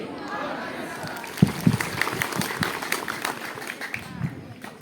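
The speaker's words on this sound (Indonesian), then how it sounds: "terus tepuk tangan" Schoolchildren at a vocational high school clap together in a hall, a scattered burst of hand claps with a few sharp close ones amid crowd murmur, moderately loud and uneven.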